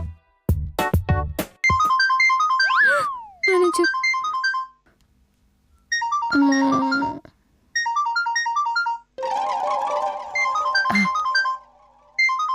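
An electronic phone ringtone plays a repeating melodic pattern in bursts with short gaps, loud and close, with no talking.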